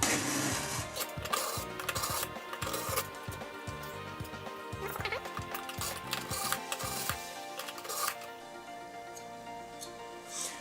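A knife blade is drawn repeatedly through the fine slot of a Rakuka Masamune sharpener, giving close, rhythmic scraping strokes with a dense, rasping texture throughout.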